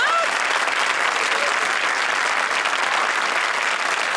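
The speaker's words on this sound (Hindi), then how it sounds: "तालियां।" Studio audience applause at a comedy show, a dense, steady roar of clapping that fills the whole stretch at close range.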